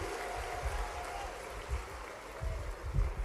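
Audience applause at an outdoor public meeting, a broad steady wash of many hands clapping with irregular louder bursts, fairly near and continuous throughout.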